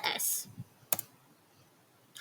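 Typing a short command on a computer keyboard: a quick burst of clicks, a lone sharp keystroke shortly after, then quiet with a final click at the end, fairly close and alone.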